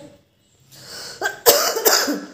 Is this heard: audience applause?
no